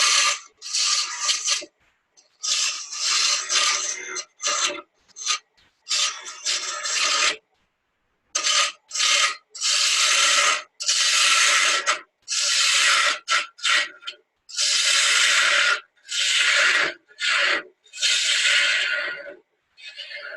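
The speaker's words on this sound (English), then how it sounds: "back to the 1/4 inch ball gouge. And start taking this down to a point." A 1/4 inch ball gouge cutting a spinning workpiece on a wood lathe, tapering it to a point in repeated harsh scraping passes of one to two seconds each, separated by brief silences, close and loud.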